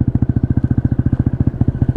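A PGO Tigra 150 scooter engine fitted with an Akrapovic exhaust idles close by, giving a loud, rapid and even low-pitched pulsing thump.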